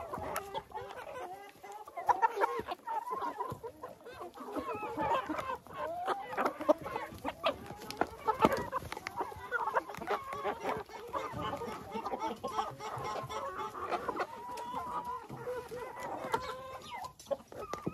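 Hens and chicks in a chicken coop cluck and chatter steadily, close and fairly quiet, with an occasional rooster-like call among the flock.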